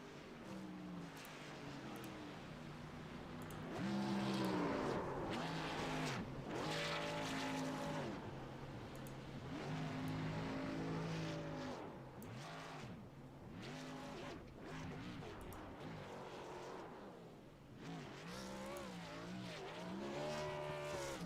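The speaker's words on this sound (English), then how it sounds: "Maybe do some grass burnouts here." A race car roars through grass burnouts after winning at Kansas Speedway, its engine revving up and down in repeated surging pulls with tire noise, loud and continuous, broken by faint crowd or commentary sounds.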